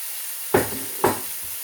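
Cooked lentils drop into a hot pan with two quick, close bursts of sizzle over a steady background hiss.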